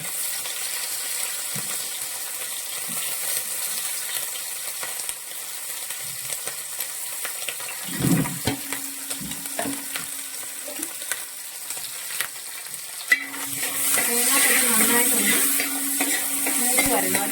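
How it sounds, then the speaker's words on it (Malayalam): Coconut pieces frying in a pan for a Kerala-style beef fry, a steady close sizzle running throughout, with a few stirring clatters and a louder, busier patch of frying near the end. "തേങ്ങാക്കൊത്ത് നന്നായിട്ടൊന്ന് വഴണ്ട ഒരു ഗോൾഡൻ ബ്രൗൺ കളർ ആവുമ്പോഴാണ് നമ്മൾ ബാക്കിയുള്ള സാധനങ്ങളെല്ലാം ചേർക്കുന്നത്"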